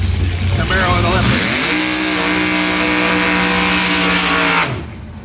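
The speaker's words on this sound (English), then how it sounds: "That's one cool machine doing a burnout" A Camaro does a burnout, its engine roaring loud and sustained with a rising rev and tire squeal, then cutting off sharply near the end, with crowd noise beneath.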